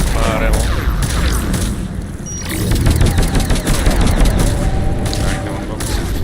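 Rapid bursts of loud gunfire loaded with fire ammo in Mass Effect 3, dense overlapping shots and booms from close range, with a voice speaking over the combat.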